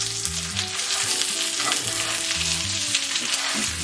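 Salmon fillet sizzles loudly and steadily in a hot pan, with brief soft scraping as the fish is turned over onto its side, no voices present.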